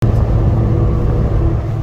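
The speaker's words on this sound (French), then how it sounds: "On se fait doubler par une Lamborghini STO." A Lamborghini STO sweeps past at close range in a loud, deep engine rumble that fills the whole moment.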